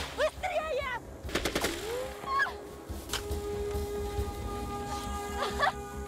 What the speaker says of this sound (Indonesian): pasukan Jepang melepaskan tembakan dari belakang